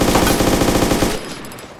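Rapid automatic gunfire in the DayZ mod, a loud, dense burst of shots for about a second that then cuts off into quieter game ambience.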